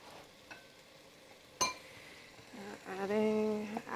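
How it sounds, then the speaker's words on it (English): Apples frying in a pan with cinnamon, nutmeg, brown sugar and honey, a soft sizzle with a sharp clink of a utensil against the pan, then stirring noises swelling louder toward the end. "We're gonna actually start frying."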